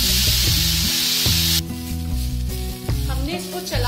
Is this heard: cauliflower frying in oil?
yes